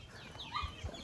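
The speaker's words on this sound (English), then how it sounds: "So dito naman sa nakagala natin na mga manok." Chickens cluck softly on a farm, a few low, scattered calls at a moderate distance with no talking.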